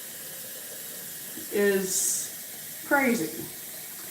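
A kitchen tap runs to fill a water cooker in a home under construction, making a steady hiss throughout while a person speaks briefly over it twice.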